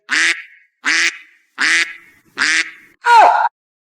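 A duck quacks five times in a steady rhythm, loud and close, with short pauses between each call; the last quack is longer and harsher.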